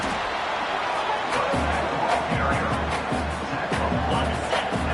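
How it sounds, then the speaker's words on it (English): Stadium crowd noise from the College Football 26 video game, a steady dense roar of spectators filling the whole stretch at even loudness with no clear breaks. "Listen to the crowd energy here in the early going. This is a tough environment for visitors."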